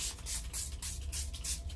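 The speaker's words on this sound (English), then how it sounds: "I'm going to spray my face with my Rose Toner" Rose toner facial mist sprayed onto a face, a series of short hissing spritzes in a quick, fairly regular rhythm, close and soft with no talking.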